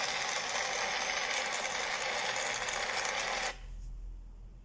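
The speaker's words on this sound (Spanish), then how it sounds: "Sonido de un incendio en el bosque." Forest fire sound effect: a steady, dense broadband roar and crackle at constant loudness that cuts off abruptly after about three and a half seconds, leaving a faint low rumble.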